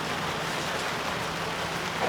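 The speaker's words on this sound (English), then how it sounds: "Oh, here's the rain. The rain has come." Rain beginning to fall on a Saigon street, a steady broadband hiss of drops with a faint low hum beneath, even and continuous without voices.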